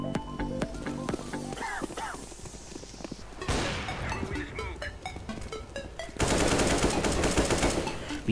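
Rapid automatic gunfire rattles in CS:GO on the old Inferno map, bursts of close shots and distant crackling, ending in a loud sustained volley, with players talking over the shooting.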